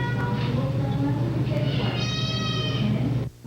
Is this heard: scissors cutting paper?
no